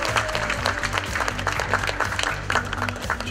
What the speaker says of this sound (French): des applaudissements fournis pour le plus combatif, Mathieu Chioca.